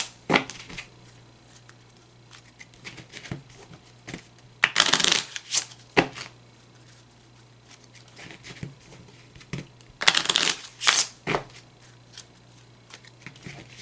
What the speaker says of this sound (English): I usually shuffle my decks for about 5 times